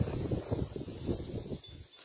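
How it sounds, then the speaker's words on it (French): Wind picks up outdoors, a low, steady rumble of gusts buffeting the microphone, faint and continuous with no voices. "Le vent se lève."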